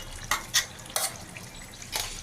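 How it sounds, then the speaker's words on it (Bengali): Ground spinach paste being stirred into spices frying in oil in a pan for dhaba-style palak paneer: four distinct scraping strokes over a soft, steady sizzle. "এটা দিয়ে এখন ভালোভাবে মিক্সড করব। এই যে পুরো পালং শাকটা দিয়ে এইভাবে মিক্সড করছি।"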